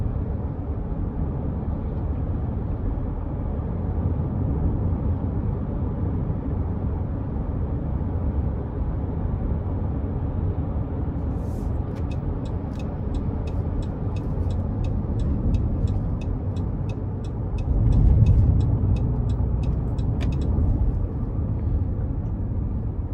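Steady, even road noise fills the cabin of a 2020 Dodge Grand Caravan SE V6 on the move, a low broadband rumble with a faint rapid ticking partway through and a brief louder swell near the end.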